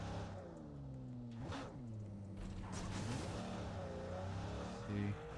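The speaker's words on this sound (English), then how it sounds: "Let's drive around with Khalad and Sesto. In the nice Aston Martin supercar." Aston Martin supercar driving in PUBG Mobile, a steady engine drone with rising and falling pitch as it accelerates, a whoosh mid-way and a brief rev near the end.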